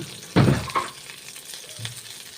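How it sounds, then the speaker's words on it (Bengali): Eggplant frying in a paratha kadai, a burst of crackling sizzle followed by softer stirring scrapes and a low steady fry, close with no speech. "বেগুনটাও ভেজে নিচ্ছি"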